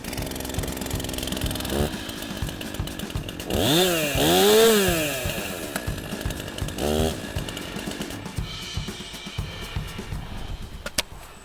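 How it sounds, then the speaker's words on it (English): A chainsaw engine sputters and catches, then revs up loudly with rising and falling whines before settling into a steady, rough idle nearby. "For me to start this chainsaw, I need to have my foot over here and my left knee pressed in."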